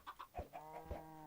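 Chickens in the Minecraft video game cluck in a few quick, close bursts, followed by a brief sustained game tone, with no talking.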